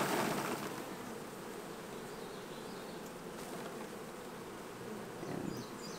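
Dense buzzing of honey bees swarming around brood frames being handled during a summer hive split, a steady close insect drone throughout.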